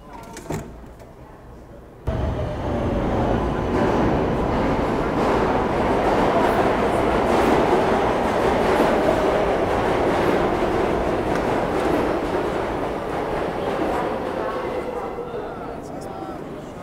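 A New York City subway train roars in with a sudden loud rumble and screech, then keeps up a steady rolling clatter before fading slightly, while a voice talks over it.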